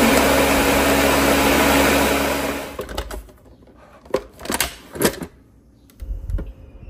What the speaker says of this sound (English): Let's blend it all together until it's nice and smooth.